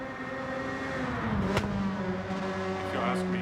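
Front-wheel-drive race car in Gran Turismo 7, a steady droning engine note at moderate level, with a brief sharp burst midway, as the car runs on track.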